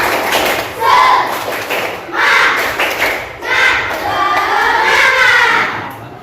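A class of students performs a rhythmic clapping routine, loud bursts of hands in repeated patterns separated by short pauses, mixed with children chanting along.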